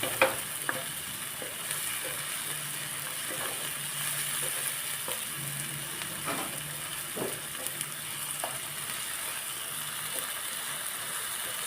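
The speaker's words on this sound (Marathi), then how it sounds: "त्याला ना मी 5 ते 10 मिनिटं चांगलं हलवून घेते मंद आचेवर" Onion-tomato masala for green pea chutney fries over low heat while a spoon stirs it, a soft steady sizzle broken by scraping clicks against the pan, quiet and close with no talking.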